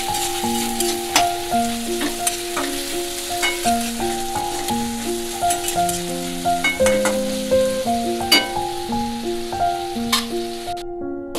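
Chicken and onions fry in a pan while being stirred, a continuous close sizzle broken by frequent scraping strokes of the spoon, with a steady tonal hum underneath.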